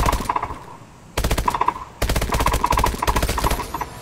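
Rapid automatic gunfire in Call of Duty Advanced Warfare comes in loud, close bursts of sharp repeated shots, broken by two brief pauses before a longer sustained stream.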